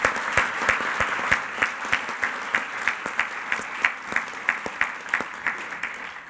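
Audience at a Royal Society science book prize event applauds, steady clapping from a sizeable crowd with sharp individual claps standing out, sustained for several seconds without talk.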